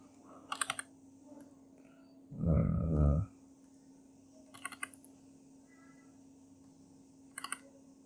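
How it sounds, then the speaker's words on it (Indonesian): A single computer keyboard keypress, the R key, comes as a sharp click amid sparse scattered clicks of keys and mouse in a quiet room with a steady electrical hum. "kita bisa menekan tombol R pada keyboard"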